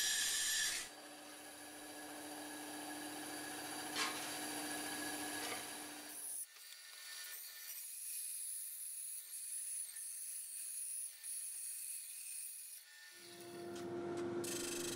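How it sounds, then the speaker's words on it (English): A bandsaw cuts a circle out of aluminium sheet from an old chain sprocket project, a steady high whining and rasping that drops to a thinner hiss in the middle before the full cutting tone returns. "it's a simple matter of cutting out that circle on the bandsaw"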